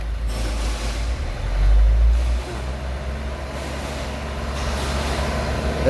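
A JMC truck with low power from an injector problem idles with a low, steady engine rumble, swelling briefly as the throttle is pressed, then settling back to a constant drone.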